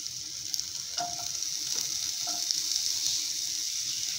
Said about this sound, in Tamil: எண்ணெய் சூடானதும் எடுத்து வச்சுருக்க வெங்காயத்தை போட்டுக்கலாம்.